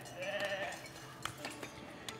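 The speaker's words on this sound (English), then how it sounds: "it's sheep. We're going to put sheep around the church." Sheep bleat at a sheep farm in the building game Foundation, a few wavering calls at moderate distance, followed by light clicks and faint background ambience.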